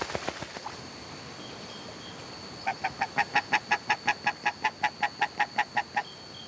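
Molting Muscovy ducks call near a riverbank in the wild, where caimans lurk. A few scattered calls come first, then a steady, evenly spaced run of about fifteen loud, nasal honks, close and with no talking.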